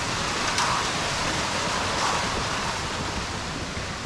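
Waterfall beside a wobbly bridge at Lake Atitlán, a steady, close rushing roar of falling water that stays even throughout with no voices.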